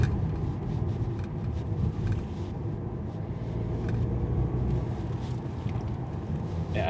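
A 2.2 diesel car cruises along with a steady, dense low rumble of engine and road noise, heard from inside the cabin, continuous and even throughout with no voices.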